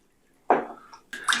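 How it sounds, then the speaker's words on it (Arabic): A fork stirs starch into cold water in a kitchen bowl while garlic cream is being made, giving two short wet swishing bursts with a brief pause between them, close and fairly loud. "طبعا راح ندوبها بمي باردة، حصرا مي باردة مو مي سخنة. هي راح نستخدم الشوكة مشان التدويب."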